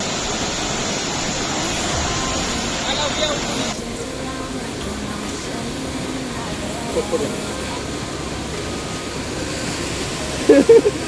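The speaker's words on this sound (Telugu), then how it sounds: "ఈ వాటర్ ఫాల్ అయితే వాస్తాపూర్ వాటర్ ఫాల్ వెళ్ళే దారిలో ఉంటుంది" A waterfall near Vastapur roars as a steady, broad rushing wash throughout, with a brief change in tone partway through and a few short knocks near the end.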